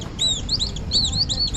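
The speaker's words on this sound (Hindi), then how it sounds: "ये देख रहे चिड़िया की आवाज़ के लिए ही मैंने थोड़ा क्लिप दिखाया" Small birds chirping and tweeting in repeated quick high calls, several overlapping phrases close by over a steady low outdoor rumble, with no talk.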